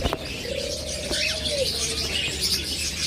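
Pet lovebirds, cockatiels, budgerigars and ringnecks kept for sale give a soft cooing call and scattered light chirps, moderately faint against a steady background hum.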